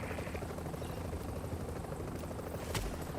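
A helicopter lands in a video game, rotor blades beating as a continuous loud, close chop with a brief sharp knock near the end.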